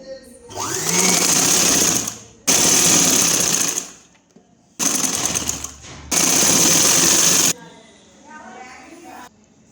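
A sewing machine stitches the lining of an umbrella-style long frock in loud, close bursts of rapid whirring, starting and stopping four times with brief pauses between runs.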